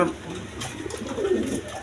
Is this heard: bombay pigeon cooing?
yes